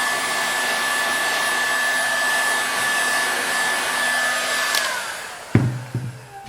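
A heat gun blows a steady, loud airy roar while heating a section of material, ending with a couple of sharp knocks as it is set down.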